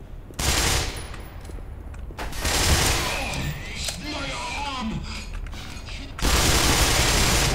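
Gunfire in the PC game Black Mesa comes as loud, sustained automatic bursts and fusillades, close and dense, with a player's voice talking over parts of the shooting.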